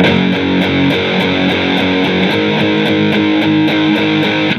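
A heavily distorted electric guitar plays a chugging, rhythmic riff with repeating chord stabs, loud and steady throughout.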